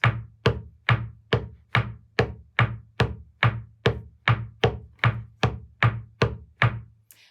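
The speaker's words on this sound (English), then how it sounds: "foot tap. And that is a heel and a toe." A Cape Breton fiddle-style foot tap rocking heel and toe, about fifteen close, crisp knocks on a floor in a steady, even rhythm, each one sharp and quickly decaying, with no other sound.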